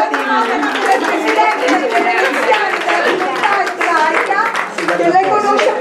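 An audience applauds at an Italian book presentation, a dense steady clapping from a crowd that carries on loudly throughout, with some voices mixed in.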